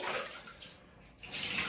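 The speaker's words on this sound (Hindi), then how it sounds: "चलो अभी पानी गिराना शुरू करो, क्लीन कर लो" Water is poured out to clean a bathroom: a bright, splashing gush runs close by, dips briefly to a quieter trickle, then surges again loudly.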